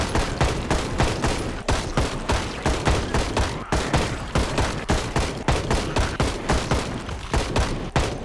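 Rapid gunfire in the Project Zomboid zombie survival game, a loud, close, continuous string of sharp shots at a steady fast rhythm with no talking over it.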